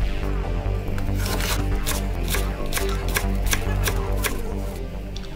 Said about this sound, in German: Eine Zwiebel klein schneiden und mit einer Knoblauchzehe vermischen.